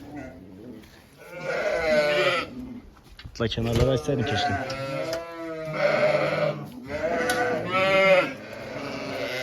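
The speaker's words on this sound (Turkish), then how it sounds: "Bu büyük çadırımızda da tamamen doğurmuş koyunlarımız var." Sheep and their newborn lambs bleating inside a large tent: repeated wavering bleats, some near and loud, others fainter, overlapping one another, with a person speaking briefly among them.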